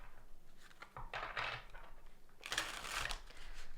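Tarot cards being shuffled by hand to draw one more card, a soft papery riffling in short bursts, with a longer, louder flurry near the end; close and fairly quiet.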